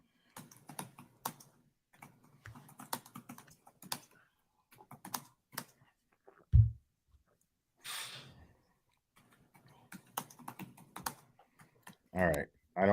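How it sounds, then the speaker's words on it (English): Someone types on a computer keyboard during a court hearing, a quiet, irregular patter of key clicks in short bursts with pauses, broken by a sniff, a breath and other small noises. "I don't need to hear that person typing."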